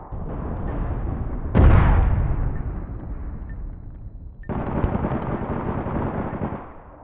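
Gunfire in the online shooter APB Reloaded: a sharp loud blast followed by a decaying rumble, then a second sustained burst of firing a few seconds later over a continuous game background.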